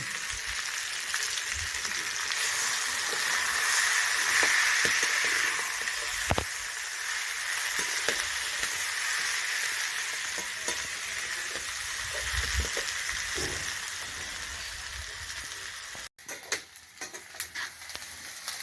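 Fish roe fries with onion, onion stalks and potato in hot oil, giving a steady, moderate sizzle with scattered crackles and occasional stirring clicks over a long stretch, and no one talking.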